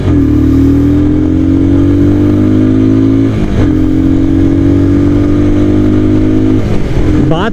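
A Royal Enfield Himalayan Scram 411 motorcycle accelerates hard on a highway stretch, its single-cylinder drone climbing steadily in pitch, dipping briefly at two gear shifts and then pulling up again, loud and close throughout.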